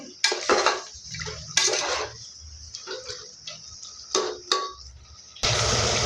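Rice soaked for biryani being washed in water, with clattering pot and utensil sounds, short splashes and knocks in bursts close by, then a steadier rush of water at the end.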